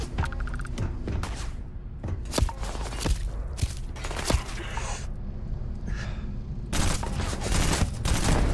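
AK-74 mod rifle firing in the video game Starfield, with repeated sharp gunshots in short bursts and single shots at an uneven rhythm, loud and close, alongside game ambience and no talk.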